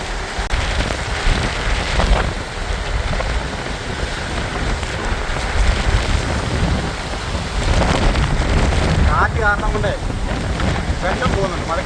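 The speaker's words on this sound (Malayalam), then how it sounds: "അതായത് ഭയങ്കര മഴ കേട്ടോ ഒരു രക്ഷയില്ല" Heavy rain pours down steadily in flood-hit Kuttanad, Kerala, a dense, loud roar of drops that never lets up.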